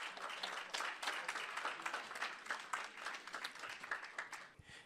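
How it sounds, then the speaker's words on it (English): Applause from a conference audience at a men's leadership summit, a fairly quiet but steady patter of many hands clapping that gradually thins into scattered claps. "give them a round of applause"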